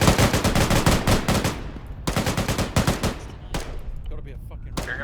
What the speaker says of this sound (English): Hearing a bunch of shooting to the left of the LAV blue building.